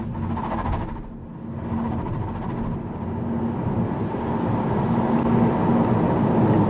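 A 2024 BYD Dolphin Extended, a front-wheel-drive electric car with 150 kW, accelerates from 20 on a wet road, heard from inside as a continuous low road and motor hum with tyre hiss that swells gradually.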